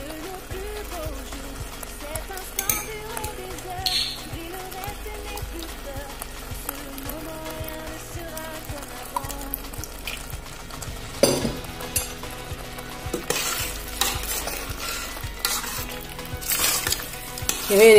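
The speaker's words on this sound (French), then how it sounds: "Je vais laisser encore donc mijoter quelques minutes avant d'enlever." Sliced chili peppers and carrots with salt simmer and sizzle in oil in a cooking pot, a steady close frying crackle with occasional stirring and utensil clinks while someone talks over it.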